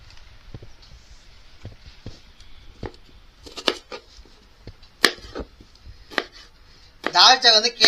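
Knife chopping carrots into rounds for a mutton dalcha, sparse single cuts on a board spaced through the clip, with a louder burst of clattering near the end.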